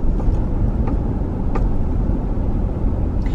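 Steady interior road noise from a car driving through Indianapolis, a constant low rumble of engine and tires with faint clicks over it.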